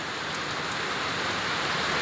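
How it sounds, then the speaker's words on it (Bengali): Heavy rain pours down in a steady, dense hiss with no breaks, loud and close throughout. "বৃষ্টি অনেক জোরে বৃষ্টি চলে এসেছে"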